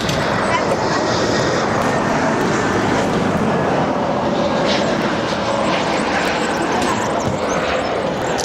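Wizz Air Airbus A320neo, four years old, arriving on runway 24R at Barcelona, a steady broadband jet roar filling the whole stretch at constant loudness.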